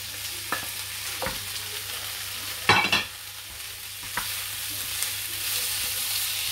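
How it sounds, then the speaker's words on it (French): Leftover meat and vegetables sizzle in a frying pan, giving a steady frying hiss. A few sharp clinks and scrapes of stirring come through, with one louder clatter. "On va laisser bien griller un petit peu tout ça."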